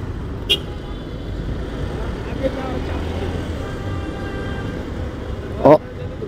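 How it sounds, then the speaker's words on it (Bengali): Car horns honking in city traffic from a rideshare car, two short, sharp toots, one early and one near the end, over a steady road rumble. "ও ঘন ঘন হর্ন দিচ্ছে আর হচ্ছে গাড়ি চালায় জোরে।"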